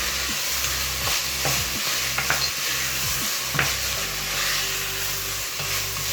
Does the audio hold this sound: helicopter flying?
no